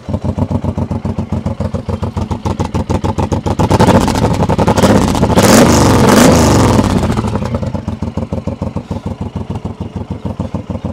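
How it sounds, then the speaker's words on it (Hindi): A Suzuki Intruder M1800R cruiser with a custom exhaust idles with a steady, deep thumping beat, then revs up for a few seconds into a louder, rougher roar before settling back to its loping idle. The sound is close and clear, with no talk. "एक बार इसको स्टार्ट करके इसकी आवाज सुनाएंगे"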